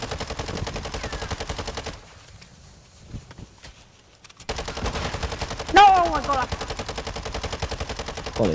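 Automatic gunfire from the video game Call of Duty: Modern Warfare II rattles in rapid, loud, evenly spaced bursts. It breaks off for about two seconds of near quiet, then resumes with a short rising whistle among the shots.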